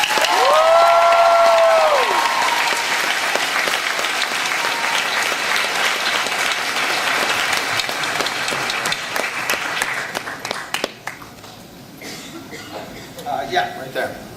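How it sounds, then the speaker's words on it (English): Audience applause at a Dark Horse comic panel at New York Comic Con, a full crowd clapping with some cheers that gradually thins out near the end. "Okay, everybody applaud Jane Estes."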